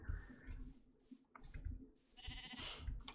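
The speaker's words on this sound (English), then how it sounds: "I hear a sheep." A sheep bleating in the video game Minecraft, a faint wavering bleat that rises near the end of a short stretch of quiet in-game ambience and scattered clicks.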